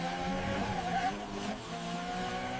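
A Ferrari SF90 Stradale hybrid supercar on the Fiorano Circuit sends out a steady, sustained engine drone with rising and falling tonal harmonics, heard continuously and alone.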